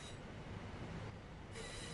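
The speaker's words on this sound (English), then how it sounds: "it's time to bring the train to a stop." Train brakes in a train simulator game as the train slows to a stop, a steady, fairly quiet metallic rail squeal and rolling rumble with no speech.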